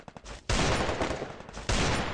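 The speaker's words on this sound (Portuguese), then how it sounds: "Um tiro no Nobru, um tiro." Gunfire in the battle royale game Free Fire, rapid bursts of shots with a few quick pops before dense sustained volleys, fairly loud and without talk.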